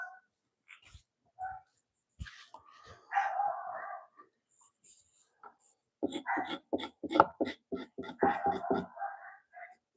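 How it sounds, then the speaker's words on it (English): Dog barking at nothing outside, a few scattered single woofs, then a rapid burst of repeated barks close by with short gaps between them. "Barking at nothing."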